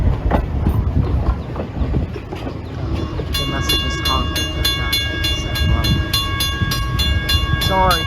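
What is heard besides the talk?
train passing, Strasburg Railroad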